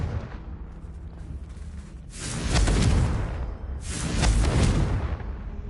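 Confringo explosion spell in the Hogwarts Legacy video game, two loud booming blasts with roaring rumbling tails, one after another over steady game ambience.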